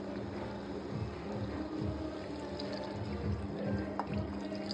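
Water pours in a steady low stream into a pot of chilli-coated pieces for a gongura dish, sloshing softly for several seconds without any talking.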